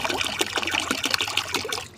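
A steady stream of kerosene pours and trickles into water, a continuous splashing gurgle, close and fairly loud, tapering off at the end.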